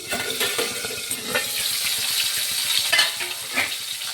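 Koi fish fries in oil in a pan, giving a loud, steady, close sizzle with crackling pops and occasional light clinks throughout.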